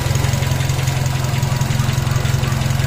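A Nissan Almera car engine idles steadily, giving a loud, close, even low throbbing hum with a fast regular pulse and no talking.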